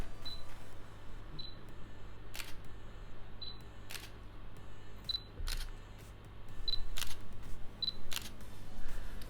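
Fujifilm X-S10 camera shutter firing about eight times at irregular intervals, each a crisp, quick, close click over a faint background hum.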